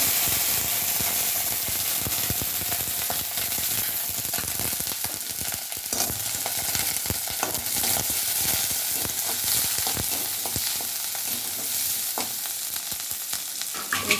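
Vegetables frying in a hot pan with a steady loud sizzle, while a utensil stirs and scrapes repeatedly against the pan, close up and without talk.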